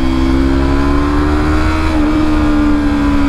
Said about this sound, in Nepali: मेरो बाइक त पड्किरहेको छ, राति भएर सुनसान हुन्छ, राति आवाज ठुलो आउँछ नि त